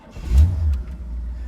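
A quiet sleeper car pulls away with a low engine surge that swells and then eases off into a steady mid-level rumble, close by and with no talking.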